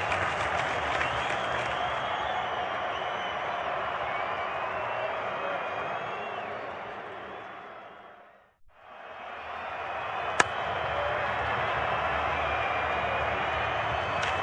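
A cricket stadium crowd at a PSL match between Peshawar Zalmi and Karachi Kings cheers and applauds after a six, a dense sustained roar that briefly fades to near silence and then swells back.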